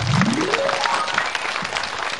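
Studio audience at a Chinese antiques-appraisal TV show applauding three guests: dense, steady clapping that fills the whole stretch at an even level, with a brief rising tone at the start.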